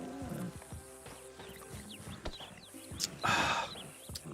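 An injured horse in the video game Red Dead Redemption 2, heard in short snorts and hoof scuffs among game ambience, with a bright burst of noise near the end.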